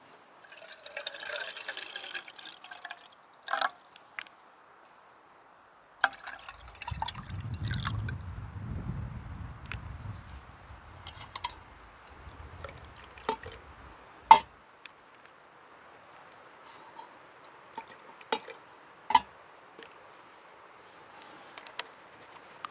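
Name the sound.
water being poured into a pot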